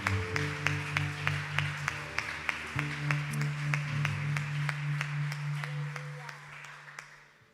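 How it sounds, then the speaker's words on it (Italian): Congregation clapping along in church worship, a steady rhythmic beat of hand claps kept up over sustained music and singing voices, moderately loud and fading at the end. "Possiamo applaudire il Signore."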